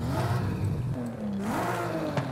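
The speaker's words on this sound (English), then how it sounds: "This just sounds like any other car, but the stock exhaust sounds really unique" A car engine in Forza Horizon 5 revving through its stock exhaust, rising and falling in pitch over a couple of seconds, fairly close and alone.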